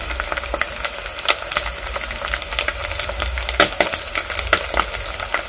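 Omena (dagaa) fish frying in a pan, a steady close sizzle with scattered sharp pops and crackles throughout.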